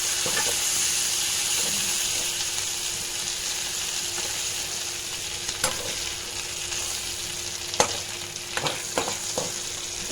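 Prawns fry in hot oil in a pan, a loud, steady crackling sizzle held close throughout, with a few sharper pops and utensil taps near the end and no voices.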